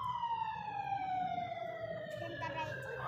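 A police siren wails in the distance near a hilltop in a strawberry-growing area, its tone sliding slowly downward as it passes, with soft voices and a low background rumble underneath.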